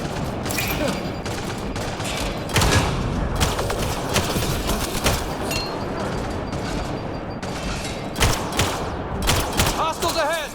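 Gunfire in the Mass Effect Andromeda video game: rapid bursts of sharp shots and fusillades crackling repeatedly across the whole stretch, with heavier thumps at intervals and occasional voices mixed in.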